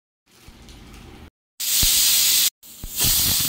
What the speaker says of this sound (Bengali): দেখো সিটিটা বসে গেছে।